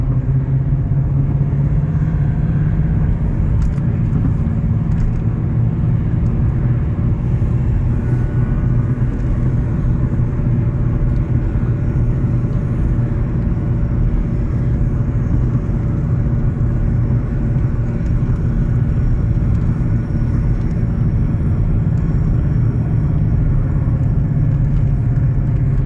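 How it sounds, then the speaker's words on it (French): A BMW 318is E36 in need of restoration is driven, its exhaust line knocking against the gearbox, heard as a loud, steady low rumble of rolling noise and engine drone from inside, continuous throughout with no talking. "J'espère qu'on entend bien ce doux bruit de roulement mêlé à la ligne qui tape la boîte de vitesse."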